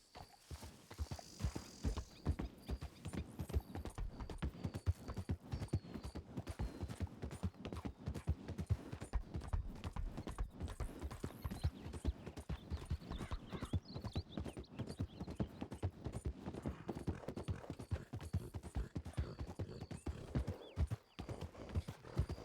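A horse's hooves clip-clop steadily and briskly for the whole stretch in a Wild West roleplay game, close and continuous, with a whinny near the start.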